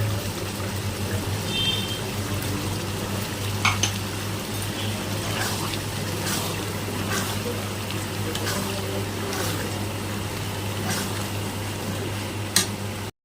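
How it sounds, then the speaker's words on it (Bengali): Ridge gourd and poppy seed paste stirred in a pan, giving a steady soft scraping and sizzling bed over a low hum, with a few sharp utensil clicks scattered through. "একটু নাড়াচাড়া করে এখনই পোস্তটা দিয়ে দিতে হবে।"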